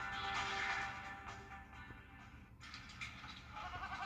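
A goat bleats within a TV advertisement, a short wavering cry amid music and ad audio at moderate loudness.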